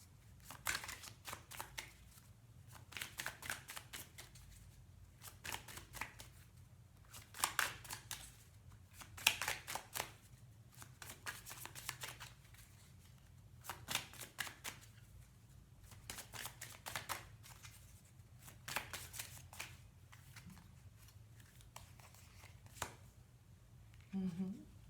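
Tarot cards shuffled over and over in a steady run of crisp riffling bursts, close and fairly loud, with short pauses between passes and no speech over them.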